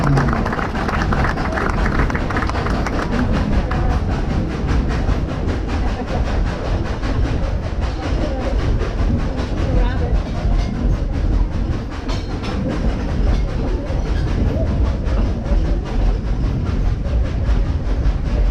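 Steam locomotive engine number 70 of the Dollywood Express, a former White Pass & Yukon Railroad engine, rolls along the rails with a steady rumbling clatter of wheels and cars throughout, heard up close from on board.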